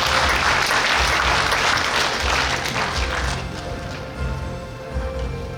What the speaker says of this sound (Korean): 순천미역 전에 회장을 지내셨던 양준석 전 회장님 박수 보내주시기 바랍니다